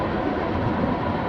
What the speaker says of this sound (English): I can't hear a damn thing as the trains are loud.